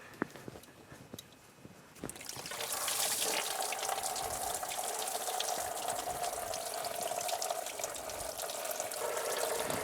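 Coolant drains from a Polaris RZR radiator into a drain pan, first as a faint trickle, then a steady close, loud gush of liquid splashing for several seconds with no talk.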